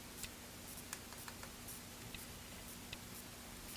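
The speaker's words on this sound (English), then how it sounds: "I heard it click when I kind of check its adjustment" A Sensei Rev Curve hair shear gives a series of faint, sparse clicks as its adjustment is checked, heard close in an otherwise quiet room.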